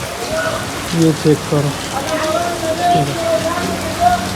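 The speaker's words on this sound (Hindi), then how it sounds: "खूब तगड़ी बारिश हो रही है आज तो।" Heavy rain falls outside in a steady, dense hiss of drops on surfaces, continuous and fairly close, while a voice speaks briefly over it.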